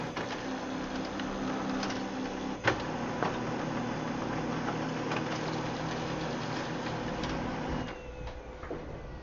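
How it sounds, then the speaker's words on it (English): A steady mechanical whir and hum of a laser printer running, with a sharp click partway through and faint rattles; no one speaks. "I can hear the print beginning to process on my laser printer"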